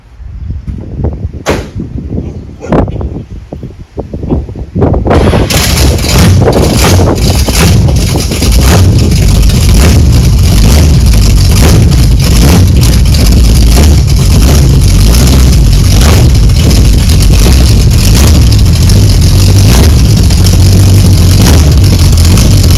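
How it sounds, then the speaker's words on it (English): An Oldsmobile 455 V8 runs after installation, loud and close, a few sharp knocks giving way to a steady, rough idle with a rhythmic lope that continues throughout. "the engine seems like it's running fine"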